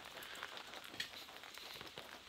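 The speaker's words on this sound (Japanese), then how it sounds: "和骨469番さん、なんで雨？ 今梅雨の時期だからさ、仕方ないよ" Steady rain patters during the rainy season on a hillside castle ruin and shrine grounds in Kasama, Ibaraki, a soft, even hiss of drops on surfaces, moderately close, with no talk.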